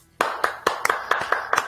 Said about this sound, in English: I wish the claps were louder, Phil.